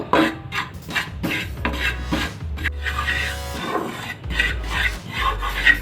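Dry scraping and rasping of a utensil stirring gram flour dry-roasting in a pan, in repeated strokes with brief pauses between them.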